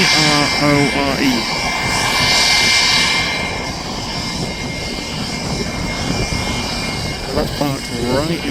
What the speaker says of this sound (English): Another private jet, G-R-O-R-E.